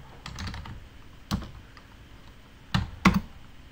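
Someone types a network password on a computer keyboard, giving a few sparse, quiet key clicks in short clusters with pauses between them and no voices.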